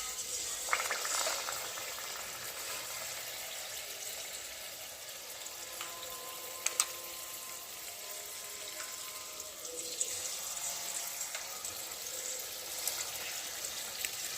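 Gokul pithe deep frying three or four at a time in hot oil make a continuous, fine sizzling hiss with occasional small pops and crackles, fairly close and steady throughout.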